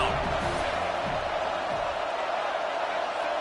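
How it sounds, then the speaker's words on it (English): Steady stadium crowd roar building behind the defense on a third-down play in a football video game, a dense continuous wash of noise with faint commentary-like voices underneath. "Decibels rising as the crowd gets behind this defense on third down."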